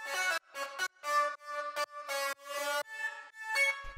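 A bright synth lead made of two layered synths plays a choppy melody alone, short notes separated by brief gaps.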